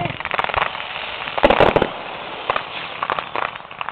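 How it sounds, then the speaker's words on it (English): Fourth of July fireworks show with crackling firecracker bursts and sharp pops, a dense loud cluster near the middle and scattered crackles on either side, while people talk nearby. "He has the best fireworks show."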